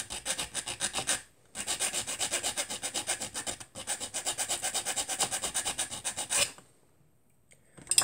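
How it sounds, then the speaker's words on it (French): Metal file rasping across the mould flash on a die-cast Majorette toy car, close and quiet: quick, even back-and-forth strokes in two bursts, then a pause and a faint touch at the end. "On va essayer de le rectifier avec une lime métal."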